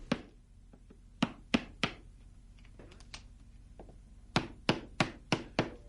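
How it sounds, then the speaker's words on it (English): A wood chisel strikes the edge of a hardwood floor strip, giving a series of sharp, woody knocks in irregular bursts that come close and clear against a quiet room. "Using a wood chisel, cut the edge of the strip you want to remove."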